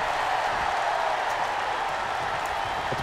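A crowd cheers in a wrestling video game, a steady, moderately loud wash of arena noise and clapping that holds evenly from start to finish.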